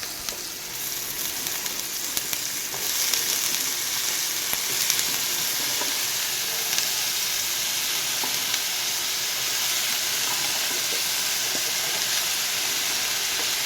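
Chopped mixed vegetables frying in a hot pan, a steady loud sizzle and hiss with occasional stirring scrapes throughout.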